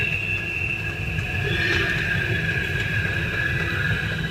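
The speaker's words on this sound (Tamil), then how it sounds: "ஒரு மெட்ரோ போயிட்டு இருக்குங்க" Hyderabad Metro Red Line train moving through a station, a steady low rumble with sustained high-pitched tonal whine from the wheels and motors, continuous and moderately close.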